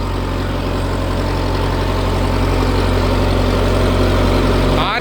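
Sonalika Tiger 75 CRDI tractor, 75 HP, running in power mode, with a loud, steady, close diesel engine drone that holds constant throughout and has no talk over it.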